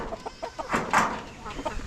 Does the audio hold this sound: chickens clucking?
yes